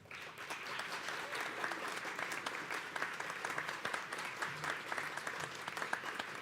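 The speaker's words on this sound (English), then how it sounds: "give them a very vigorous, heartfelt thank you and applause" Graduates at a 2022 community college career and technical education commencement applaud their faculty, a steady dense round of clapping from a large crowd heard at a moderate distance, sustained for several seconds without talk.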